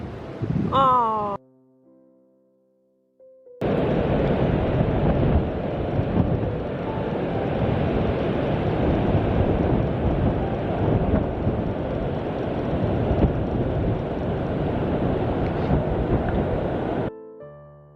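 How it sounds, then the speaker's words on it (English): Strong storm wind roars and buffets continuously for a long stretch, loud and rushing, after a brief voice and a short quiet gap at the start. "Oh no, it's very windy."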